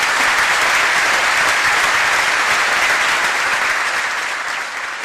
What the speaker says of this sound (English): I think she deserves a massive round of applause tonight.